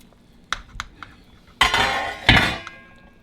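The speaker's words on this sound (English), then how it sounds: "I'm gonna flip this over for a while to make sure it's cooking good on the top and the bottom" Meat gets turned over in a cooking pot: a few sharp metallic clinks of utensil on pot, then two loud bursts of sizzling and scraping as the pieces are flipped, fading after.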